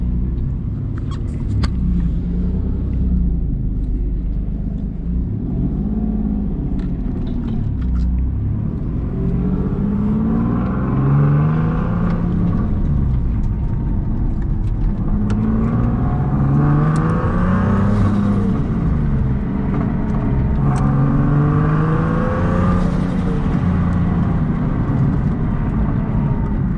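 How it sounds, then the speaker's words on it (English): Boosted Nissan 370Z engine heard from inside while driving, a loud continuous growl that rises and falls through several revving pulls across the whole stretch, with no talking. "I love the way this car sounds."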